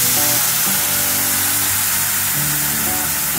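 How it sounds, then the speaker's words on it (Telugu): Food frying in a pan on the stove beside a pot of milk coming to the boil gives a loud, steady, unbroken sizzling hiss that carries on alone, with no talk. "ఇట్లా పాలు మరగ పెట్టుకోవాలి, పక్కనే వేయించుకుంటూ ఉండాలి"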